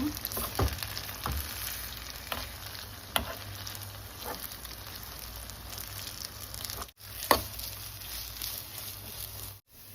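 Curry leaf mixture frying in oil on a low simmer for curry leaf rice, a steady soft sizzle with occasional stirring scrapes and a few louder crackles, no talking.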